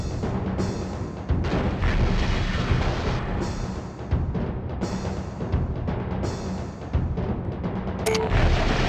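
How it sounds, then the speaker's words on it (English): Weapons fire and explosions in the MechCommander Gold battle game, a dense continuous barrage of loud blasts and bursts with sharp cracks, ending in a bright electronic zap. "I am receiving directed fire."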